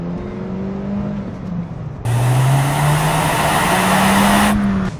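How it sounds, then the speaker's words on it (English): A car pulls out of a roundabout in first gear and is driven hard, the engine note rising loudly under full throttle and climbing in pitch as it accelerates, heard close from inside. "you take this roundabout, you're in first gear, come out, and then you smash it"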